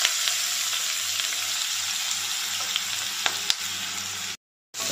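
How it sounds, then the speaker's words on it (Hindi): Chopped onions fry with black peppercorns and cloves for keema kaleji, a steady, close, hissing sizzle with small crackles that cuts out abruptly near the end. "अनियंस को हम सुनहरा होने तक इसके अंदर भूनेंगे।"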